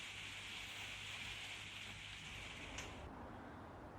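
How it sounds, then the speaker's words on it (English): Hard, steady rainfall fills the whole stretch as a dense continuous hiss, fairly close and even in level, with no voices over it. "You can probably hear it is raining pretty hard today."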